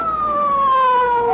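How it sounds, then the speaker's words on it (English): A police car siren wails loud and close in an old-time radio drama, a steady, slowly falling tone with no talk over it. "Police car."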